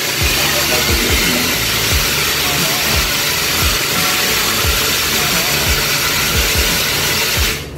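A loud, close 1.5 water pump motor running hard with a rough, rhythmic churning and pulsing thumps that cuts off abruptly at the end.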